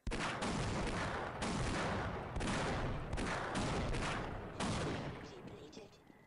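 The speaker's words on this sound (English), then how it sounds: "let's just try shooting at it with whatever we have" Weapons blasting in the video game Half-Life, heavy repeated bursts of automatic fire in several long volleys with brief gaps between, loud and close, fading toward the end.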